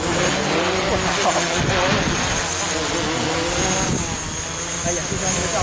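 An FPV racing drone on an SG325 frame flies through hard manoeuvres, its high motor whine rising and falling steadily overhead with a faint voice in the background.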